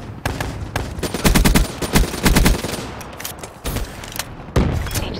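Assault rifle fire in Black Ops 3, loud sustained automatic bursts with short pauses between volleys, punchy and close.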